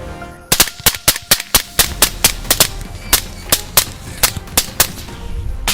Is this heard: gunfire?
yes